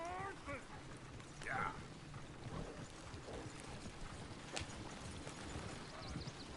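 Horse hooves clip-clop steadily at a low level beneath a wash of ambient noise in the Red Dead Redemption 2 video game, with a few faint vocal sounds mixed in.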